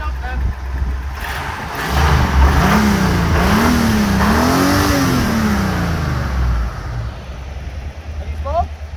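An engine in a 1972 Chevy van, long left sitting, revs up and down in rising and falling swells close to the microphone over a steady rumbling idle, with people talking through most of it.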